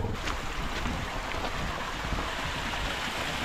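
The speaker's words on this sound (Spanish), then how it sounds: "hay un pequeño riachuelo aquí y sale agua también" A small stream of running water in the countryside makes a steady, broad rushing wash, mixed with wind buffeting the microphone, with no one speaking.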